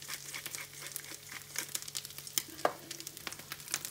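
Vegetables sizzle in butter in a pan as they caramelise, with close crackling and sharp spitting pops over a low, steady fry.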